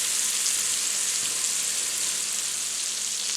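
Sausage browns in a pan for jambalaya, sizzling in a steady, loud, bright hiss with no pauses and no voices.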